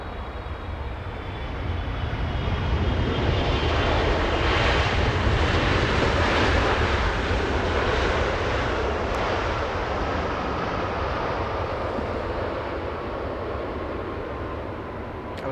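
Turkish Airlines airliner arriving from Istanbul at Los Angeles International, a steady loud broadband jet roar holding for the whole stretch with no voices over it.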